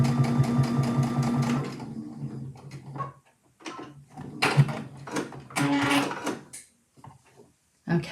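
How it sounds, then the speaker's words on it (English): Sewing machine topstitching fabric, a fast rhythmic mechanical stitching that runs in several bursts separated by short pauses and small handling clicks, close and fairly loud. "I'm just moving the needle over on my machine, and then I'm going to start sewing"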